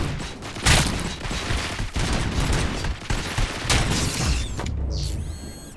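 Sustained gunfire in the RoboCop: Rogue City video game, a dense fusillade of rapid shots and booms filling the whole stretch, loud and continuous, ending with mechanical clicks and a brief electronic tone.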